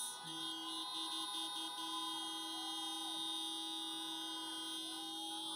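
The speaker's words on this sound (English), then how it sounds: "Honk your horns, FNMs!" Car horns blare at an outdoor drive-in political rally in North Abaco, several sustained tones overlapping continuously at a distance with a few shifting pitches sliding under them.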